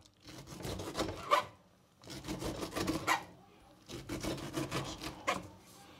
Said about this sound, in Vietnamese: Mình cắt bỏ cái lớp vỏ này.